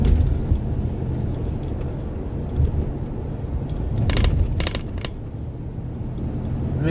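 A car driving on the road at night, with a steady loud low rumble of engine and tyres heard from inside the cabin and a few brief rattles and clicks toward the end.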